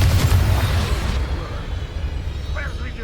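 A Confringo fire spell explodes in the video game Hogwarts Legacy, a loud booming blast at the start that fades into a rumbling tail, with a voice speaking over it.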